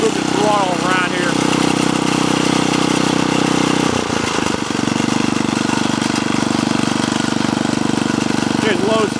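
A Montgomery Ward rototiller engine with a broken throttle cable idles steadily at low speed, a loud close rumble that dips and stutters briefly midway. A person talks over it.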